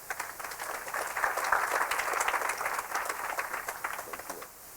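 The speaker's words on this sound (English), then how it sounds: "please help me welcome him with a round of applause" Audience applause welcoming a guest speaker at a talk on AI in research, a steady burst of many hands clapping for about four seconds before tapering off, with no voices over it.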